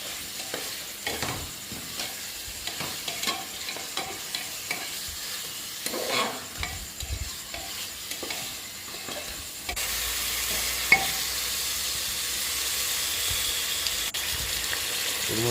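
Washed mutton pieces are stir-fried in a pan for biryani, with repeated scraping strokes of the spoon over a sizzling background that turns into a steadier, louder sizzle in the later part.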